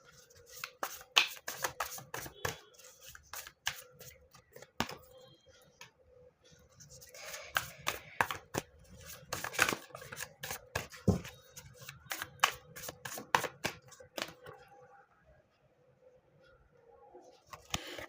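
Tarot cards are shuffled and drawn by hand, producing irregular bursts of crisp flicking, snapping and sliding card sounds close up, separated by short quiet pauses.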